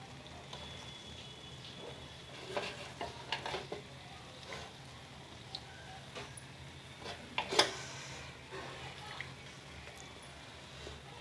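Semiya upma being stirred in a pan during cooking, faint sizzling with intermittent spoon scrapes and clinks against the vessel.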